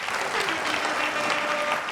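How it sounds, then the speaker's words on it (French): An audience at a live music show claps in a steady burst of applause to welcome someone on stage. The clapping is continuous for the whole moment, with faint tonal sound beneath it and no clear speech. "On l'applaudit,"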